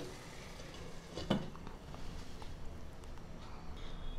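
Potatoes and fenugreek leaves are stirred in a pan while cooking, giving a faint, steady rustle and soft sizzle with one brief scrape of the spoon partway through. No one speaks.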